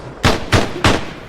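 Gunfire in Arma 3 during a city evacuation mission: three sharp, loud shots at an even pace, close by, with no talk over them.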